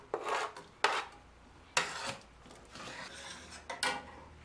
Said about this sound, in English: And I'm gonna add some chopped up ham that I have in the freezer.